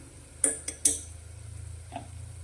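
Spoon scraping and clinking in a pot as gram flour is stirred into a raw peanut curry, a few sharp metallic taps then quiet stirring over a low hum, close by.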